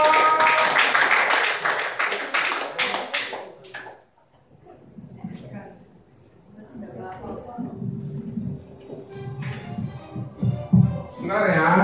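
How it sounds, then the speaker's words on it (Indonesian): A dense burst of clapping from an audience at a Prudential office gathering fills the first few seconds, then fades out as murmuring voices and talk take over. "Tepuk tangan dong."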